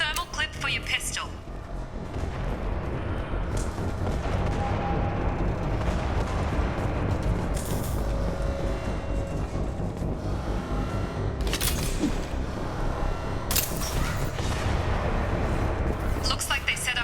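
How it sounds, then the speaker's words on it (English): Canisters blow up by a door in Mass Effect 2 Legendary Edition, a run of heavy booming blasts and sharp bursts over rumbling combat noise, with people talking throughout. "Those canisters by the door are going to blow."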